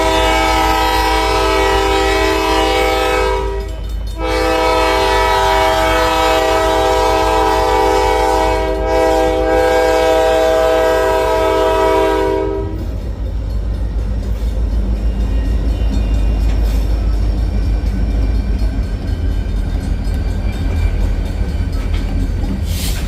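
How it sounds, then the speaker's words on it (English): A Great Lakes Central shortline freight train heading northbound through Howell, Michigan, sounds a long, loud horn in several blasts, then its wagons rumble and clatter steadily past close by, with no voices. "we're going to be taking a look at the Great Lakes Central OSTN crew heading northbound through"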